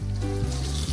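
Menpachi fish frying karaage style in hot oil, with a close, continuous sizzle and a low bubbling rumble beneath it, brief and steady.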